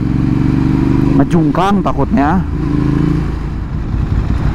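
A Ducati Hypermotard 796 supermoto idles with a loud, lumpy rumble and is blipped in a couple of quick revs, while someone talks close by.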